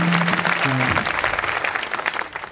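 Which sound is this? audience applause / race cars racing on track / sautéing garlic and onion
audience applause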